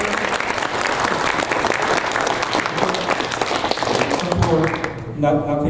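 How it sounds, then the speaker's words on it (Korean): A church congregation applauds together after an infant baptism during a Sunday worship service, a dense, steady clapping that fills the room and fades near the end as a voice begins speaking. "우리 다 같이 한 박수."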